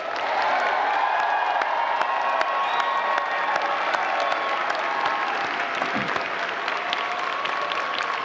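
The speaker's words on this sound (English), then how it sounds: "Let's give the class of 2023 a round of applause." A large audience applauds the graduating class of 2023 at a university graduate commencement, with steady, loud, continuous clapping and occasional cheers and whoops.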